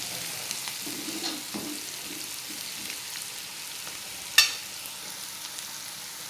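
Onions for bitter gourd tikka masala fry quietly in a pan with a steady soft sizzle, a few faint stirring scrapes, and one sharp metallic clink near the middle.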